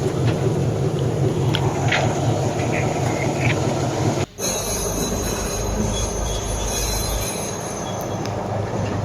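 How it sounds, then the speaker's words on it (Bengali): Loud, continuous grinding and rumbling of a rail track lifting machine raising rails during track repair in Russia, with metallic squeals, nearby and sustained, briefly cutting out midway. "এই মেশিনটা দেখছেন এই মেশিনটাতেই রেলটাকে উপরে তোলা তুলছে আর কি"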